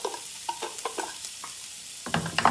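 A spoon scrapes and stirs onions sweating with salt in a pan, giving soft, intermittent clinks and shuffles over a faint sizzle, with busier stirring toward the end.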